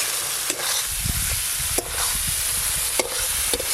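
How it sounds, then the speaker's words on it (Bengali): Cumin paste, dried red chili paste and raw green mango frying in oil, a steady close sizzle broken by regular spatula scrapes and knocks against the pan as it is stirred. "জিরে বাটা, শুকনো লঙ্কা বাটা, আমের সঙ্গে এই মশলাগুলো একটু ভালো করে কষে নেব।"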